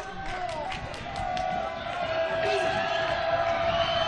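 High school basketball crowd cheering in a gym at Whitehall Yearling against Columbus Academy, a steady, loud wash of shouting and whoops that swells slightly louder over a few seconds, with squeaks and voices mixed in.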